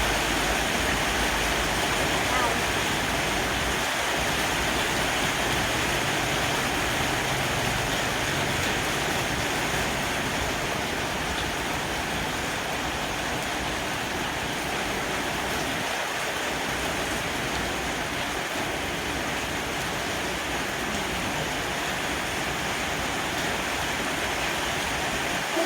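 Heavy rain pours steadily throughout a kite flight, a dense, continuous roar of falling water with no break, loud and close, with no talking.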